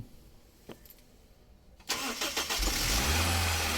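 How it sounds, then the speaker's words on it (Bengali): A Toyota HiAce Super GL microbus engine cranks briefly, then starts and settles into a steady, loud idle close by. "আমরা গাড়িটা স্টার্ট করব"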